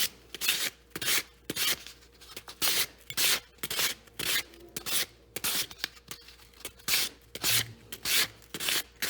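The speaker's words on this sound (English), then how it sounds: "And I just really, really lightly sand them." Christmas ball ornaments, originally gold, lightly sanded by hand in repeated short rubbing strokes, a quick, fairly even rhythmic rasping heard up close, with no voices.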